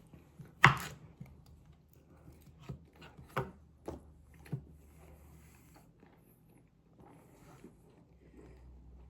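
A knife cuts potatoes in a quiet kitchen, with a handful of sharp, close chopping knocks spaced unevenly over the first few seconds before it falls mostly silent.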